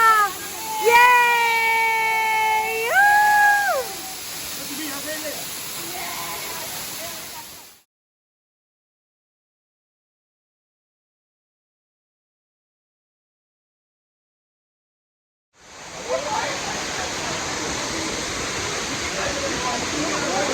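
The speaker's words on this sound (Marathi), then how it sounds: "आम्ही फायनली आलो आहे वॉटरफॉलला." Hidden waterfall at Khopoli, a steady rushing roar of falling water heard in two stretches separated by silence, with people talking and high-pitched voices over the first part.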